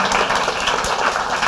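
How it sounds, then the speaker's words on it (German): Steady audience applause at a project presentation event, a dense, even patter of many hands clapping without pause, fairly close and full. "Großer Applaus, bitteschön."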